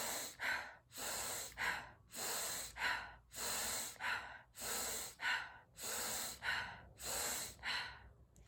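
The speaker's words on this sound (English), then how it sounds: "I'm gonna go ahead and show you what the actual breathing looks like." Rapid deep breathing exercise: about eight forceful, evenly paced breaths in steady rhythm, each a loud rushing inhale and exhale close to the microphone, with no talking.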